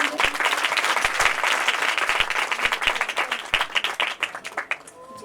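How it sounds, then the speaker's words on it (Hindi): An audience at an indoor gathering breaks into lively, close applause that holds strong for a few seconds, then thins into scattered individual claps as it fades. "ताली बजा देंगे।"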